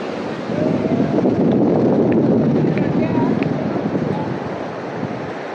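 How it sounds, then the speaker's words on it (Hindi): Steady roar of ocean waves crashing at Venice Beach, Los Angeles, with wind buffeting the microphone, a dense wash of surf noise throughout. "ज़बरदस्त लहरें आ रही हैं"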